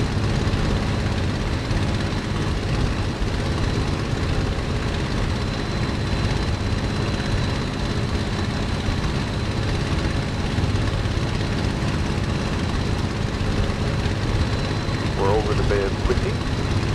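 A BF109 fighter's piston engine drones steadily in flight in Microsoft Flight Simulator, a constant loud rumble throughout with a brief faint voice near the end.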